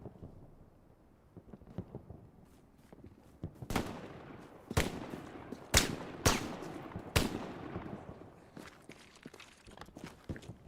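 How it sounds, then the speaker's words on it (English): MG42 machine gun laying down suppressive fire in an online multiplayer shooter, a string of loud, spaced bursts and single cracks rising to a peak mid-clip over footsteps and faint background noise. "Oh, beautiful suppressive fire."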